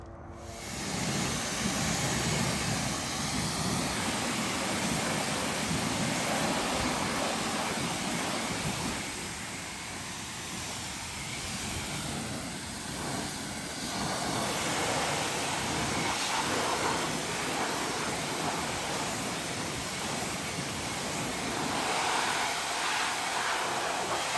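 Water sprays steadily over a foam-covered 2022 C8 Corvette Z51 during a rinse, a continuous broad hiss that swells and eases slightly as the stream moves, with no one speaking.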